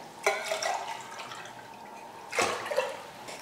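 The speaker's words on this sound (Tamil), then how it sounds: "3 படி தண்ணி ஊற்றிடுவோம்." Water poured from a vessel into a cooking pot to boil rice in a home kitchen, two separate splashing pours close by, with faint trickling and dripping between them.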